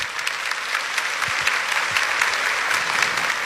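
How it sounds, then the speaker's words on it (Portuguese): Audience at a Catholic prayer gathering applauding after a scripture reading, a dense sustained burst of clapping from many hands, loud and steady throughout with no speech over it. "Vamos aplaudir a palavra de Deus."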